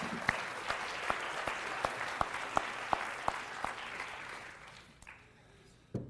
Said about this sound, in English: please stand and we'll give you a round of applause